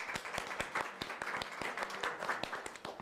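An audience at an International Literacy Day celebration breaks into applause, with sharp, distinct claps in a steady, fairly sparse rhythm that carries on throughout.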